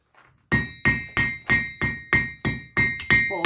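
A hammer strikes yellow-hot scrap steel on an anvil while forging it flatter for a valve spring compression tool: nine sharp, ringing blows fall in a steady rhythm, loud and close, each with a bright metallic ring that decays.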